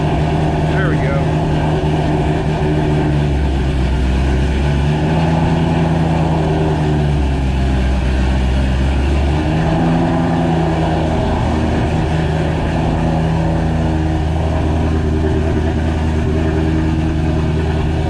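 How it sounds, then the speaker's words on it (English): A Ford GT500 V8 running on fresh 93-octane fuel idles with a deep, steady rumble and swells through a few revs, loud and close throughout, with some speech under the engine. "let's go ahead and crank it up"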